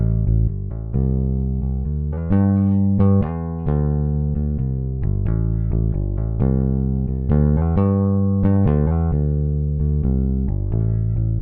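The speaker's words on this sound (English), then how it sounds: "go clean DI with the fingers on the new classic rock precision bass" New Classic Rock EBX precision bass in Toontrack EZ Bass, played with the fingers through a clean DI, plays a continuous groove of deep, punchy notes in a steady rhythmic pattern throughout.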